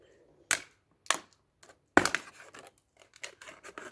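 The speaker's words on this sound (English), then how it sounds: "we need to find about halfway down from the top to the bottom and cut it in half" A plastic bottle being cut in half around its middle, a few sharp crackling snips and crinkles of thin plastic, close and intermittent, with quiet pauses between cuts.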